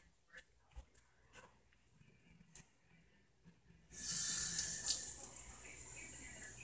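Kitchen tap water runs loudly into a sink after a few quiet clicks and knocks, a steady hissing splash that continues to the end.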